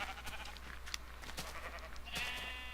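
Sheep bleating in Minecraft, a few short synthetic bleats standing alone at a quiet level with no voices over them.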